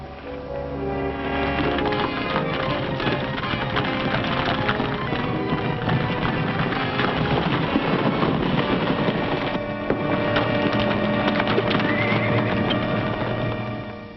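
Horses galloping and neighing in a 1941 Roy Rogers western, Nevada City, a loud continuous rush of pounding hooves with whinnies rising over a music score and no talk.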